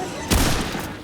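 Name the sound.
gunfire in the video game Remnant II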